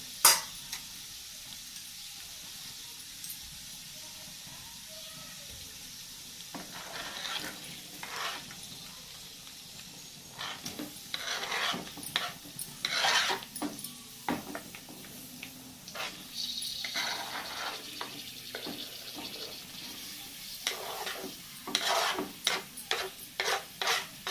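Chopped onion and green chili sautéing in a pan, with a soft steady sizzle under repeated scraping strokes of a spatula stirring the mix, close and moderately quiet with no speech.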